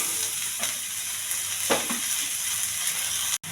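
Chopped bottle gourd frying in a hot pan gives a steady, close sizzle throughout, with a few stirring scrapes and a brief cut-out near the end.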